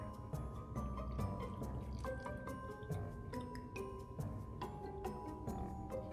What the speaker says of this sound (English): Fill potion bottle with water, pour into cauldron.